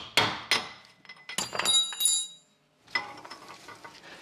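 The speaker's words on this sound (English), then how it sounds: "so I've given it a good few whacks" Sharp hammer blows strike the rear wheel bearing of a VW Golf Mk4, about half a dozen metallic whacks in quick irregular succession with a ringing clink, then a softer scraping shuffle.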